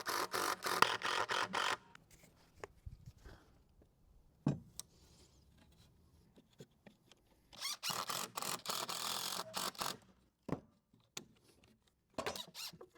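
Power drill driving screws into wooden outdoor furniture, with loud close bursts of whirring and grinding lasting a second or two each, separated by quiet stretches holding small knocks and handling sounds.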